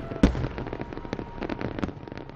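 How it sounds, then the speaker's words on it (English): Fireworks bursting over downtown Nashville at a July 4th celebration in heavy rain, with a loud sharp bang near the start followed by a dense run of smaller crackling pops and booms. "the big bangs and bright lights attracted thousands of people to Nashville's downtown streets to watch the July 4th fireworks"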